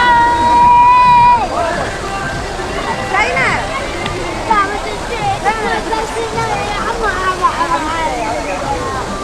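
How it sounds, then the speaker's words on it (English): Children's water cannons spray water at people in a lively outdoor crowd in Iraqi Kurdistan, with splashing and sloshing water under near, constant talking voices. "All these kids are walking around with water cannons and just shooting at people randomly."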